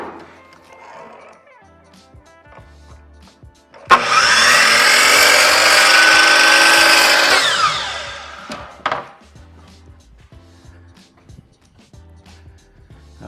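A power saw rips through a wood board for a DIY project, one loud sustained cut of about three and a half seconds, with quieter shop noise and brief knocks before and after.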